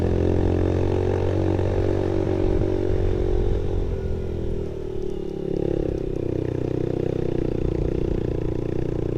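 A motorcycle engine pulls steadily up a snowy mountain road toward Lulusar Lake in second gear, a loud, continuous close-up drone that dips briefly midway before resuming.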